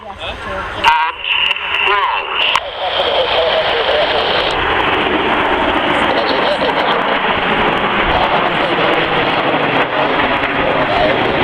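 An Avro Lancaster bomber flies past at the 2013 Cosford airshow, its droning engine roar building and holding steady while announcer-style talk carries over it.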